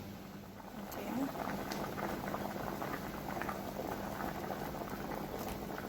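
A pot of red peas soup at a rolling boil as corn and potato are dropped in, a brief splash then steady bubbling and gurgling, close and constant, with a voice briefly audible.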